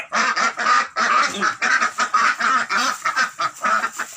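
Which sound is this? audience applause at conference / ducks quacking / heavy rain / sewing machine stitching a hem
ducks quacking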